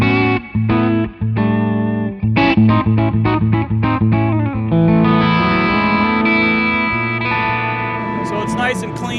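A Telecaster played through a J Rockett Melody Overdrive pedal rings out in loud chords, first choppy stabs with short gaps, then sustained strummed chords with a clean but biting, lightly driven tone.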